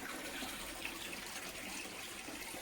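Water flows steadily into a koi pond, a soft continuous splashing gush, faint and even throughout.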